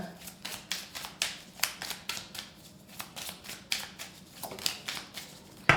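A deck of tarot cards being shuffled by hand: quick papery riffles and slaps in a steady, uneven rhythm, about a dozen bursts close up, with no talking.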